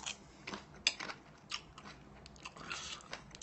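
Someone eats diet chicken up close, taking several crisp, crunchy bites followed by quiet chewing.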